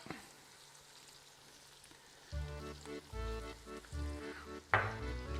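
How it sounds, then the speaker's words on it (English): Garlic hits a hot pan of seafood and starts to sizzle, a quiet hiss that jumps into loud, uneven bursts of frying crackle midway, with a sharp spike near the end. "Once they've been cooking for about 2 minutes and they're going clear, add your garlic."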